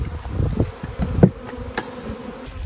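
Honey bees buzz around an open hive during a beekeeping inspection, a close, continuous droning hum with individual bees passing near and a few brief clicks of hive handling.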